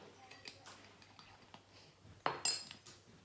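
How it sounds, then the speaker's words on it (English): Pancake batter ingredients being mixed in a bowl, heard as scattered soft clinks and taps of a utensil, with a sharper scrape and a few louder metallic clinks near the end. "so you mix that in"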